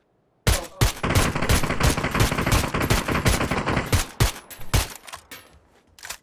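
Rapid bursts of PUBG gunfire crackle almost nonstop, dense and loud at first, then thinning into scattered single shots toward the end.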